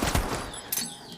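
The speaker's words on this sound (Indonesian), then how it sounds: "Bond tiba-tiba mendengar suara tembakan" Gunfire from a 2021 James Bond film: loud broadband cracks, one burst at the start and another near the middle, inside a dense, noisy action soundtrack.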